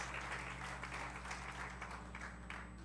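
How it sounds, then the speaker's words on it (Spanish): Church congregation applauding during a Spanish-language sermon, a steady wash of many hands clapping at moderate volume over a low hum, continuous throughout with no voices. "Dele palmas al Rey de Reyes, porque Él es nuestra victoria."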